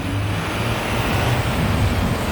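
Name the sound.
road traffic noise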